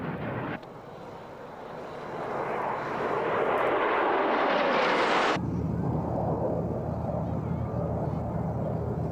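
USAF Thunderbirds F-16 fighter jets fly at the Mildenhall Air Fete air show in 1997, a loud jet roar building to a peak and then cutting abruptly to a lower rumble, with voices in the background.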